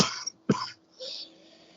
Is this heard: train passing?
no